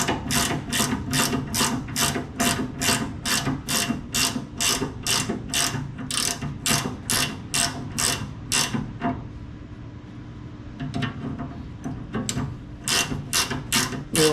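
A ratchet wrench tightens a bolt on a 1969 Dodge Charger with a steady, close run of sharp clicking strokes. The clicking pauses briefly partway through, then resumes for a few more quick turns.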